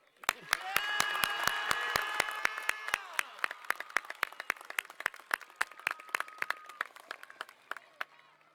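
Rhythmic clapping rings out at the Pottsgrove high school class of 2024 commencement, evenly spaced loud claps over a brief swell of cheering voices, then continuing steadily as the crowd noise thins.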